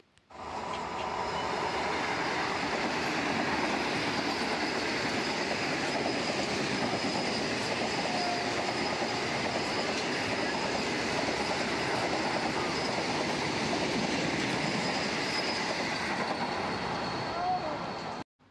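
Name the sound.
Vande Bharat train passing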